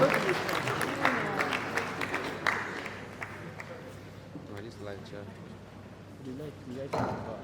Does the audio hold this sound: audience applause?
yes